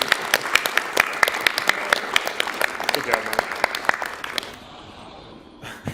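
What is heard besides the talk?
audience applause at speedrun event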